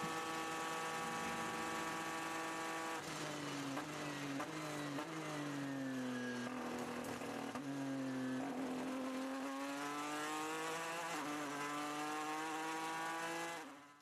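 A GTE Pro race car's engine during the 24 Hours of Le Mans, a steady high-revving roar heard from on board that rises and falls through gear changes and pitch sweeps, loud and continuous with no talk.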